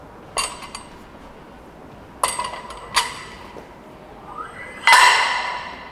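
Metal weight plates being loaded onto a barbell in a gym, with a few sharp, separate clinks and clanks and a longer ringing scrape near the end, close and fairly loud.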